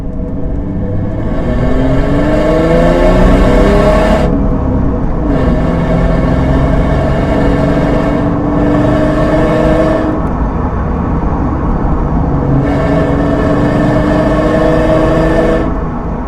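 A Ford Mustang's engine and exhaust, picked up by a microphone at the rear of the car, roar loudly through repeated rising pulls with brief drops in between, steady and close with no talking.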